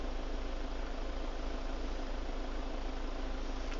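Car engine idling in Brussels morning traffic, a steady low rumble with broad road noise holding constant throughout, no voices.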